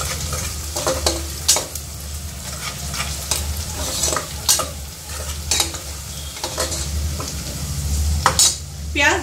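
Onions frying in desi ghee for mutton biryani, a loud continuous sizzle with frequent spatula stirs and scrapes against the pot.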